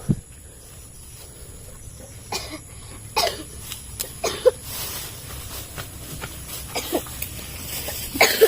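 A few scattered coughs, short and fairly close, spread across a low steady background hum with some faint outdoor noise.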